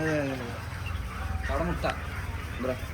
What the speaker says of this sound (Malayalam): അപ്പൊ ഇതൊക്കെ നമ്മളെ കാടക്കുഞ്ഞുങ്ങള്.